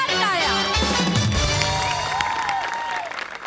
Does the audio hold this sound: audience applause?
yes